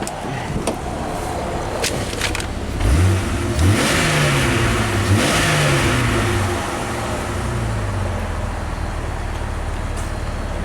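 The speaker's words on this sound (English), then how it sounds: "if it revs up good and it has good power" A Jeep engine with a crank-no-start fault revs up several times in rising and falling bursts, close and fairly loud, then settles back to a steady idle with no talking.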